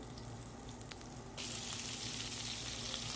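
Onions fry in butter for nihari, a steady close sizzle that swells suddenly louder midway as more onion hits the hot pan, with no talking.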